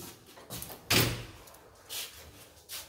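A door handled with a titanium key makes a sharp thump and latch clack, followed by a few softer knocks and rattles, close by with no talking.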